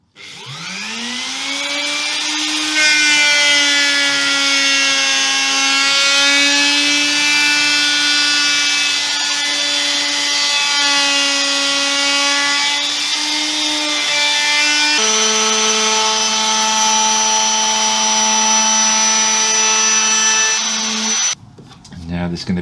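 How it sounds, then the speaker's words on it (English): A bandsaw cuts steadily through a brass-trimmed guitar body, its motor whine rising at start-up into a loud sustained tonal drone that shifts pitch partway through under load, then cuts off near the end. "I'll use my bandsaw for that."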